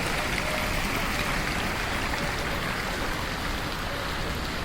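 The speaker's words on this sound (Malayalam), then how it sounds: "ഓപ്പൺ റെസ്റ്റോറൻറ്റിൻ്റെ ഇടയ്ക്കാണ് ഇങ്ങനെ ഒരു വെള്ളത്തിൻ്റെ സെറ്റപ്പ് കാണിച്ചിരിക്കുന്നത്" Steady, loud splashing and rushing of a water feature set between open-air restaurants at Madinath Central on the Pearl in Qatar, an even broadband wash filling the whole stretch with no letup.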